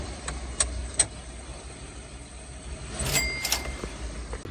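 An RV's engine runs steadily while the vehicle drives, a continuous low rumble with road noise, a few faint clicks early on and a brief rattle near the end.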